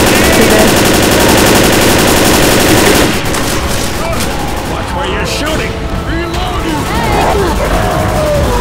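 Dense automatic gunfire in the Left 4 Dead video game, rapid bursts dominating the first three seconds, then scattered shots and clatter under raised voices of players talking.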